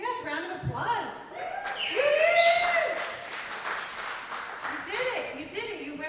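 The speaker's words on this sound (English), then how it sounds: "Yes, round of applause." Participants at a rural community meeting in Windham, Vermont give a round of applause, moderate clapping that rises and falls beneath people talking and a little laughter.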